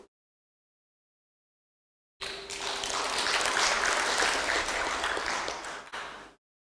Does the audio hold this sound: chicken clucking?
no